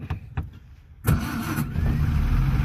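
A 1948 Peugeot 202 starts with the choke pulled: a few starter cranks, then the engine catches and settles into a loud, close, rough running idle.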